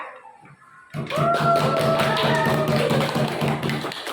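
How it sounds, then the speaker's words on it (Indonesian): A room of people in a training session applauding a presenting group, a dense burst of clapping that starts abruptly and stays steady and close for a few seconds, with some voices mixed in. "aplaus dulu juga untuk kelompok 3"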